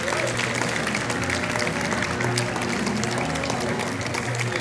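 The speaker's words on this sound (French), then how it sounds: "Je pense que nous pouvons applaudir très chaleureusement Marie Quatrôme" An audience applauds warmly as Marie Quatrehomme is welcomed on stage, steady continuous clapping from a hall full of people throughout.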